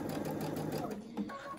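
A sewing machine stitches fabric for a fully lined scrub cap, giving a steady close-up mechanical whir with a fast repeating needle rhythm that runs through the whole moment.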